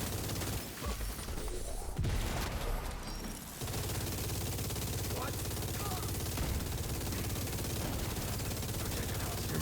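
Gunfire and explosions in The Division 2 video game, with loud sustained bursts of rapid shooting that break briefly near the start and then return in a dense, continuous barrage.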